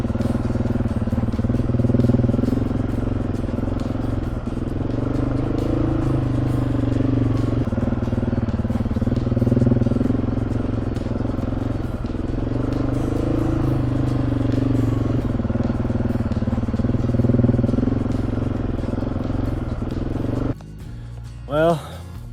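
A motorcycle engine drones steadily up close while climbing a hill on a camping trip, holding a sustained rumbling tone that cuts off near the end.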